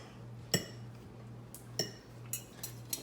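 Linguine being mixed with white clam sauce and cheese in a dish: a handful of sparse, bright utensil clinks against the dish, spaced irregularly over a low, steady background hum.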